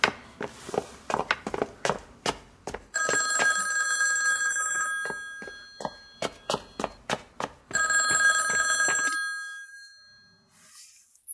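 An old-style telephone bell rings loudly in two long trilling bursts, with sharp footsteps hurrying across a hard floor before and between the rings.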